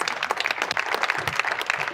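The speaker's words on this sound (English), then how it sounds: "Give her a round of applause." Dense, steady applause from a conference audience fills the whole span, many hands clapping close together without breaks.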